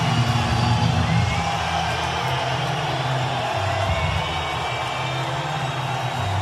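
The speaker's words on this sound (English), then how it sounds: "Stockton's own Nick Diaz, and listen to this crowd." A large arena crowd cheers for MMA fighter Nick Diaz, a loud, continuous broadband roar that stays steady throughout, with scattered whoops rising out of the din.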